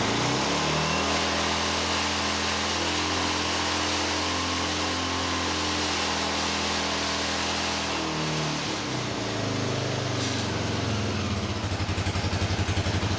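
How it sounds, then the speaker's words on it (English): A Honda NX250 motorcycle engine fires and runs at a steady, loud idle for several seconds, then the pitch shifts near the end as the revs change, with no talking. "when I hit the start button after getting a good spark, the bike fired right up"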